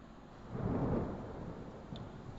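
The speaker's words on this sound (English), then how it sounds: "Storm." A low, rolling thunder rumble from a storm in the video game Friendzoned swells and fades over a couple of seconds, with a soft background wash beneath it and no voices.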